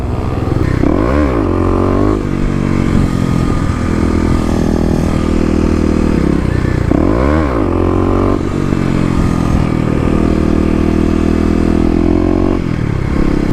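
A Kawasaki KLX250 dirt bike with stage 1 modifications roars loudly and close during wheelies, with repeated rising revs and throttle swells, engine sound dominating throughout with no talking.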